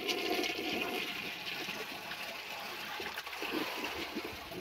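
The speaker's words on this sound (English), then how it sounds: "very short flush with this aquapiston" A Kohler toilet with an Aquapiston flush valve flushes with a rag in the bowl, giving a steady, loud rushing gush of water that runs evenly throughout without any voices.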